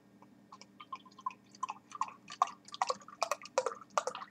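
Muskoka Double Chocolate Cranberry Stout pouring into a glass, a close, crackling stream of splashes and fizzing drips that builds steadily over a low background hum.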